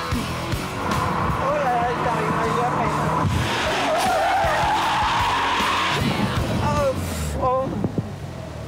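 Car tires skidding and squealing as the driver floors the throttle and fully drops the clutch to spin donuts, a sustained loud screech with engine roar, rising whines near the end and voices talking over it.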